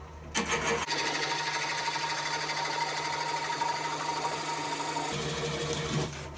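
A wood lathe spins a cracked wild birch bowl at a slowed 600 RPM, giving a steady loud mechanical whir with a low hum that starts abruptly and then drops back.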